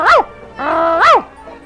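A human voice imitates a trained dog barking: two sharp, loud yelps with a sustained whining tone between them, close and alone.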